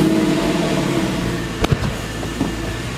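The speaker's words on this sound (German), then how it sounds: "Er hat irgendwie durch diesen Auspuff natürlich auch echt einen coolen Sound, der Wagen" A 2002 Porsche 996 sports car runs at a steady, rumbling idle through its exhaust, close by, with a couple of short, sharp thumps partway through.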